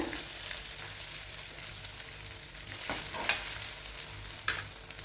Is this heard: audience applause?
no